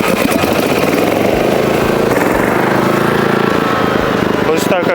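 A generator engine charging a DJI T50 agricultural drone runs loud and close, its revs building steadily while a person talks over it.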